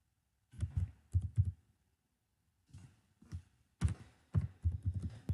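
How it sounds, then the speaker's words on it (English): Bursts of keystrokes on a computer keyboard, typed in three short clusters with pauses between, close and fairly loud with no talking. "I'm going to type surprise"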